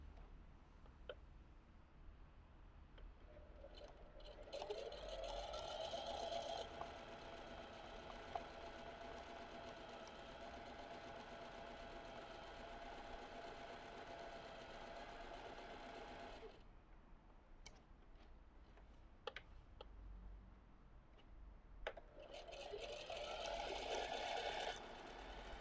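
A zigzag sewing machine runs steady free-motion embroidery stitching on rosettes, a fast continuous whirr from about 4 to 16 seconds, pausing briefly, then resuming near the end; close and clear with no talk.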